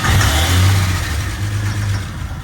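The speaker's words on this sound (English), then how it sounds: "give it a little gas and put it in drive" Jeep Comanche engine, run after sitting unused for a long time, rumbling and revving up and down in a low, loud, steady drone close by, with no talk over it.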